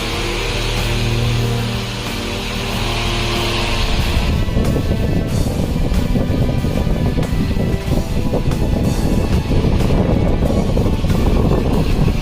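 A high-speed Tornado electric fan running at close range, a steady broadband whoosh of rushing air that grows denser and stronger after a low hum in the first few seconds.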